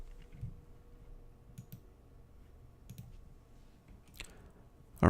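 Keys on a computer keyboard clicked a few times, faint and sparse taps in a quiet room, ending with a louder, sharper press.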